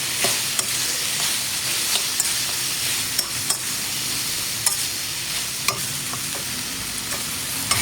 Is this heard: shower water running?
no